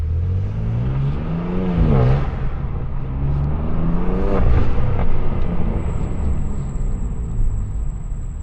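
A BMW M2 (G87) with front-mount intakes revs twice with its exhaust valves open, loud, pitch sweeping up and dropping back between steady idling, heard close up.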